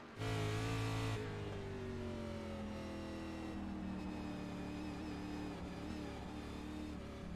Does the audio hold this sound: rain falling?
no